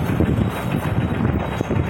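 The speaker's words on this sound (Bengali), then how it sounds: "বাহ ভালো হাওয়া দিচ্ছে তো এখানে।" Wind blows steadily outdoors at a spot in Puri, a continuous rough rumble buffeting the microphone with no one speaking.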